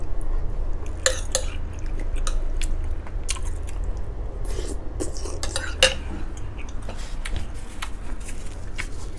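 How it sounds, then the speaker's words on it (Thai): Noodles stir-fried in a wok over high heat for Hong Kong-style rad na, with scattered clinks and scrapes of a utensil against the pan over a steady low frying rumble. "เส้นนี้ก็มีวิธีการผัดให้เขาหอมนะครับ"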